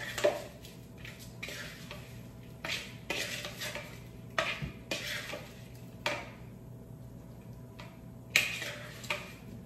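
Seasoned food with fresh cracked pepper tossed in a pan, giving a series of short scraping and clinking bursts at an irregular rhythm, moderately close and fairly quiet, with no talking.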